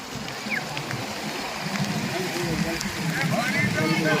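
The Karkari river at Jambur runs in flood, a steady broad rush of churning water filling the whole stretch, with voices talking over it throughout.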